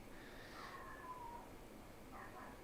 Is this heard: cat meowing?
yes